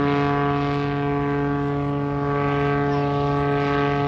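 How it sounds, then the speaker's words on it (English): An aerobatic propeller airplane hangs nose-up almost motionless at a military air show, its engine a steady, droning hum with strong tonal harmonics throughout. "You pull up on the nose and hold that aircraft still in the sky."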